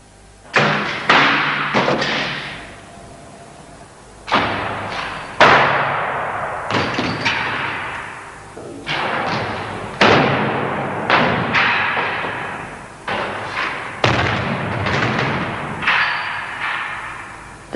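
A frozen polyethylene barrel of antifreeze, stored at -18 °C, is dropped repeatedly onto a rigid surface, giving a series of loud, heavy thuds separated by short pauses.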